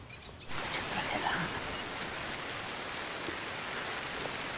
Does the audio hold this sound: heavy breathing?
no